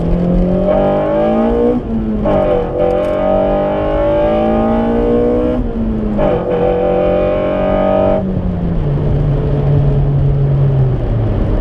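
A 2000 Honda Civic SiR engine revving hard through several climbing pulls, each rising pitch cut off by a short drop before winding up again, loud and close, ending in a settling idle.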